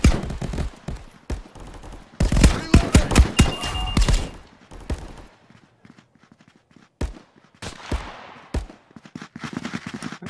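Submachine gun bursts in the co-op shooter Contractors VR on the Bo2 Standoff map in Control mode: sharp rapid volleys, densest early on, then scattered shorter bursts and single shots with some distant firing.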